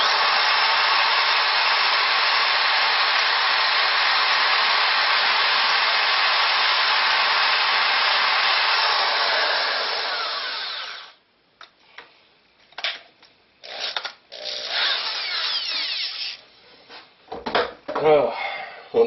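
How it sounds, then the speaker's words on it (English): A corded drill runs at a steady high whine for about eleven seconds during a scope mount install on a Mosin Nagant rifle, then stops, followed by clunks, handling noises and brief talking. "one thing I hate about corded drills is there's no variable speed whatsoever to them"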